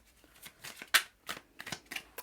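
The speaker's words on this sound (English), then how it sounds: "So I actually forgot to shuffle the decks. Let me do that." A deck of tarot-style pick-a-card reading cards is shuffled by hand, giving a series of quick, crisp riffling bursts and soft slaps in an irregular rhythm, close and fairly quiet.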